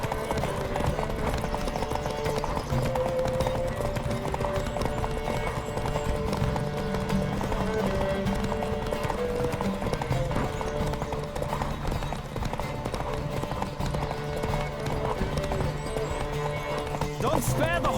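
Galloping horse hooves in The Witcher 3 video game, a fast continuous clip-clop under game music and spoken dialogue, with an occasional whinny and rushing movement throughout.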